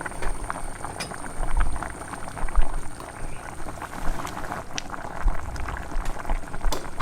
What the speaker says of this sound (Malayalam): സാമ്പാറൊക്കെ ഇതാ നല്ലോണം തിളച്ച് റെഡിയായി വന്നിട്ടുണ്ട്